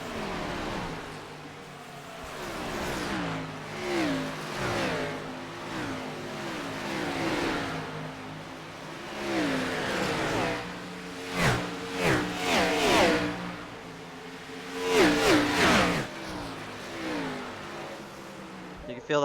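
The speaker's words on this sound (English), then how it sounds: "These are 750 plus horsepower engines just coming around as fast as they can" 750-plus horsepower race car engines roaring around the track during a Pedal To The Metal Racing League Cup Series event at Nashville Superspeedway, a steady mechanical drone with louder surges as cars pass, under continuous commentator talk.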